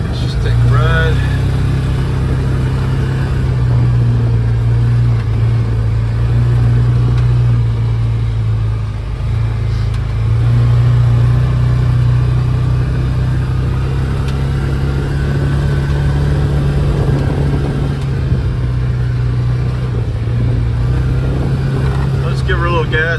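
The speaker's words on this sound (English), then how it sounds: "Give her a little gas so you can see how quickly it accelerates" A 2023 Polaris Ranger 570 SP side-by-side runs with a steady, loud mid-pitched engine drone that rises slightly as it accelerates, continuous throughout with a person talking over it.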